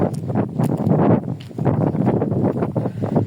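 Strong gusty wind buffets the microphone, producing loud, uneven rumbling bursts throughout.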